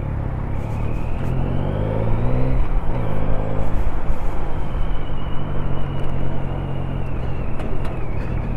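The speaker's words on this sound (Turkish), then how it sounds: "Evet, geliyor." A Yamaha Tracer 9 motorcycle rumbles loud and close, its engine note rising and shifting as it draws near, with no talk over it.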